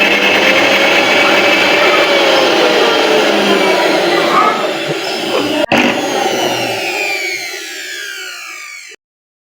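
A household mixer grinder under repair is switched on and runs loudly and close, a sustained high whine with rising and falling motor tones, then cuts off abruptly near the end.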